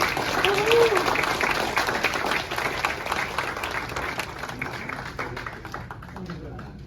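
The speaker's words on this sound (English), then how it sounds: "I want to invite you to maybe give another round of applause to all of" An audience at a Dalit History Month and Dr. B. R. Ambedkar birth anniversary event gives a round of applause, dense clapping that holds steady for several seconds and then slowly thins, with voices mixed in.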